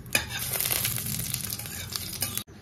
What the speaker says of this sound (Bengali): প্রথমে এই যে জিরে ফোড়ন দিচ্ছি, শুকনো লঙ্কা ফোড়ন দিচ্ছি,